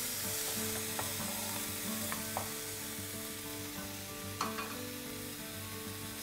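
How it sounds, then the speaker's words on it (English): Prawns with pepper and salt are stir fried in a pan, a steady quiet sizzle with occasional scrapes and knocks of the utensil, close and without talk. "We're going to stir fry a bit more."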